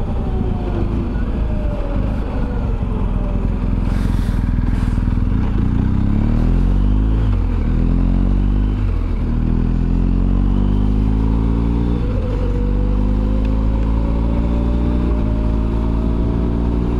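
A BMW R 1250 GS Adventure HP motorcycle is ridden over hilly Hochsauerland roads, its engine droning steadily and close with gear-shift dips and rising pitch as it accelerates, under constant wind noise.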